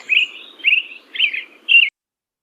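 Song of a ground-foraging yard and lawn bird: four bright, warbled phrases at a steady rhythm with short gaps, clear and close, with no other sound.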